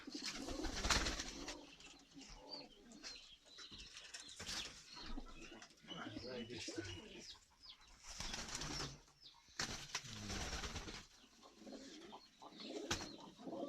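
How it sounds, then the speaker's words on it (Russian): Soft, low cooing of several Kyrgyz pigeons, including crested breeds, overlaps continuously, with occasional wing flaps and rustling nearby, fairly quiet overall. "Голуби Кыргызстана."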